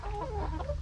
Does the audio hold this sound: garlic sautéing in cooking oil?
no